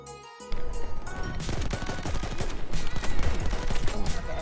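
Rapid video game gunfire crackles in dense bursts of automatic shots, loud and close, running continuously alongside game effects with no talking.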